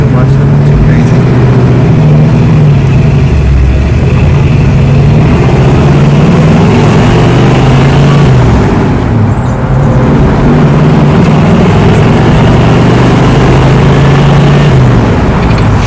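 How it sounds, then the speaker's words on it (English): A 1979 Pontiac Trans Am engine rumbles loudly and steadily from inside the car while accelerating, a deep throaty exhaust droning with slight rises as it pulls. "Exhaust sounds good."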